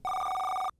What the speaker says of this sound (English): Hey, Dr. Watson, your phone's ringing